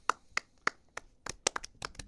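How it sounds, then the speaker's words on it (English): Podcast hosts clap in a loose, uneven burst: a handful of sharp, close hand claps, first spaced apart, then quicker and overlapping as more people join, with no talking. "I guess we're all clapping."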